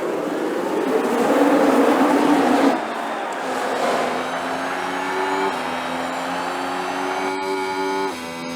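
Race cars launch at the start of the Bahrain Grand Prix in the F1 Manager video game, a dense engine roar that gives way to rising, steady engine whines layered over one another and continuing throughout.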